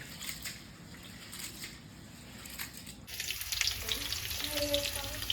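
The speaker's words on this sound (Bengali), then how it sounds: "পটলটা আমি ভেজে নিচ্ছি লাল লাল করে একটু ভেজে নিলাম পটলগুলো" Pointed gourd frying in hot oil, a steady crackling sizzle that grows louder and busier halfway through, with occasional stirring scrapes.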